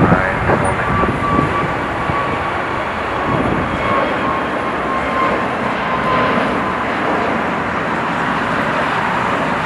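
A passenger airliner taking off at Los Angeles International Airport, heard as a steady, broad jet engine roar at a moderate distance that holds for the whole stretch without pause.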